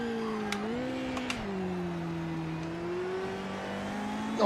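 Race cars in the Project Motor Racing video game at a standing start, a sustained engine drone that rises and dips in pitch as the cars pull away, fairly quiet and steady with no talk.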